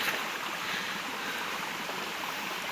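A strong creek rushes steadily in a wide, continuous wash of water noise, close and unbroken, with no voices.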